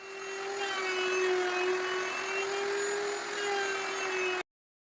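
A router cuts a ledge 3/8 inch deep into a wooden router tabletop, a loud, steady high-pitched whine that runs unbroken for about four seconds and then stops abruptly.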